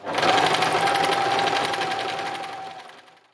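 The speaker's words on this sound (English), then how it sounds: "I have stitched all the pieces down that I want to stitch down" Sewing machine stitching fabric pieces runs in a fast, even motor-driven whir for about three seconds, close and fairly loud, then winds down to a stop.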